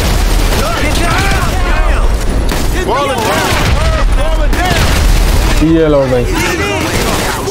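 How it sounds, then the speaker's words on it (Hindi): Explosions and bursts of gunfire ring out in a Grand Theft Auto 5 gang war against the Ballas, with repeated booms and rapid shots packed densely throughout, loud and continuous beneath someone talking. "क्या बात है यार, क्या धमाका हो रहा है जबरदस्त।"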